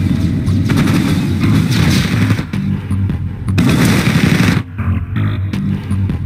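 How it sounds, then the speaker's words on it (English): Gunfire from units in the strategy game Red Alert 2 Mental Omega, loud dense bursts of rapid shots with booming impacts, briefly pausing then resuming, no talk. "Opening fire."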